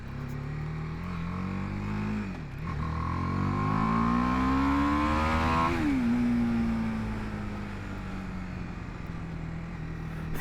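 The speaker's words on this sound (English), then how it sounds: "Winding out the throttle." BMW G 310 R motorcycle accelerating hard through the gears on a Seattle street, engine pitch climbing, dropping at a shift, then climbing again before settling into a steady cruise, heard close from the rider's position with wind noise and no talk.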